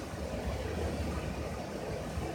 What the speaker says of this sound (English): I'm actually idling right now for the air conditioner.